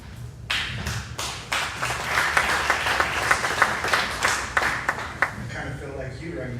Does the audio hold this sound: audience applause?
yes